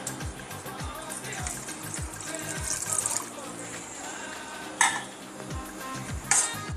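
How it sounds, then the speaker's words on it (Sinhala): Utensil stirring dhal curry ingredients with water in a pot, a steady scraping and sloshing with a couple of sharper clinks against the metal, close and moderately loud, with no talking. "දැන් අපි දාගත්ත ද්‍රව්‍ය ටික හොඳින් මිශ්‍ර කරන්න ඕන"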